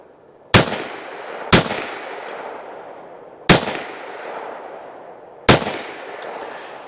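Four sharp, loud shots from a Smith & Wesson M&P .22 Magnum pistol at a shooting range, fired at 50 yards, spaced one to two seconds apart, each with a quick decaying echo into a quiet background.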